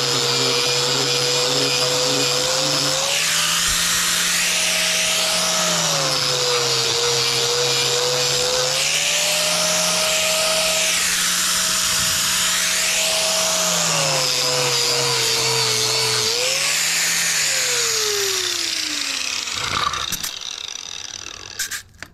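An angle grinder with a flap disc sands a wooden deck, its motor whine rising and falling in pitch as the disc loads and unloads in sweeping circular passes, loud and continuous before winding down at the end.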